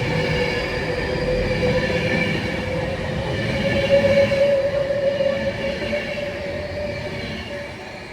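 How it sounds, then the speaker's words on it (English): An Avanti West Coast train runs through Nuneaton on the West Coast Main Line from London Euston to Liverpool Lime Street, a continuous close rolling rumble with a faint tonal squeal from the wheels. "Passing through now is a Adventure West Coast Avira unit going from London Euston to Liverpool Lime Street."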